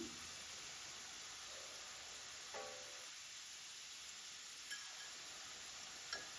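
Potatoes seasoned with chili powder fry in a pan for aloo fry, giving a faint, steady sizzle and hiss with occasional soft clinks of stirring.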